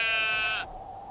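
Sheep giving a single close, wavering bleat that holds for over half a second, then cuts off into a faint lingering tone.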